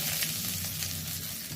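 Bay leaf, dried chilli and grated ginger hit hot tempering oil for a Bengali shukto-style matar dal, giving a close, steady hissing sizzle that holds without a break.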